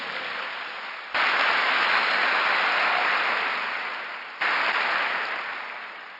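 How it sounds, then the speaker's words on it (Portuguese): A church congregation at a Sunday service breaks into loud, sustained applause that swells twice in quick succession and fills the room without any talk. "Diga amém, dê um aplauso a Jesus."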